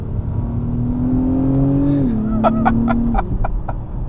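A 2024 Acura TLX Type-S sports sedan powers out of a corner, its engine note climbing in pitch and then dropping at a shift, loud and fairly close, with brief clicks and bursts near the end.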